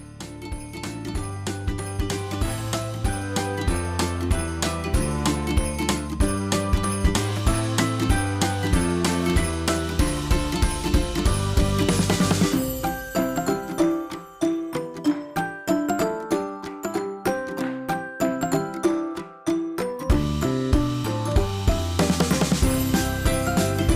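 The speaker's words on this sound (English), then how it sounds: "Now we're going to put it back on the machine and do the motif stitch around that." An embroidery machine stitches a motif around the cuff of a mitten, a busy rhythmic whir of needle and mechanism with rapid ticking, running steadily close by and pausing briefly midway before resuming.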